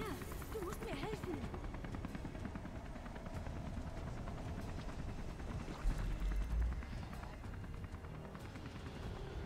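A helicopter hovers overhead during a nighttime escape in Beyond Two Souls, its rotor throbbing loudly and continuously over dense, rumbling game action.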